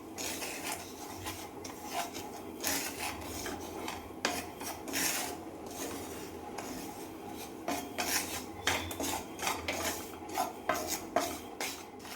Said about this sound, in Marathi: रवा आहे ना आपला चांगलं दहा मिनटं तरी व्यवस्थित भाजायचं आहे